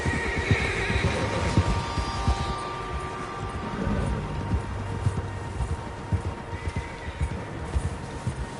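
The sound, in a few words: horses neighing, from video game Red Dead Redemption 2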